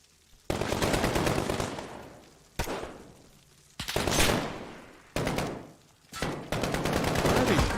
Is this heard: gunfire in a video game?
yes